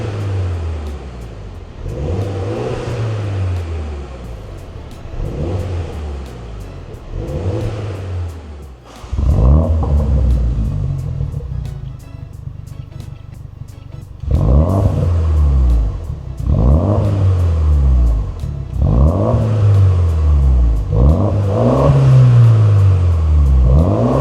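A MINI John Cooper Works (F66/F67, Mk4) fitted with a Cobra Sport valved catback exhaust revs repeatedly, rising and falling in loud close bursts, with a short steadier idle stretch in the middle.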